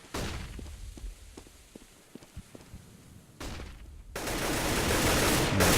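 AK-47 rifle fire in a Counter-Strike esports match at SLTV StarSeries: several sharp shots pop out in a loose burst early on, then heavier sustained noise swells and stays loud through the end, with no talking.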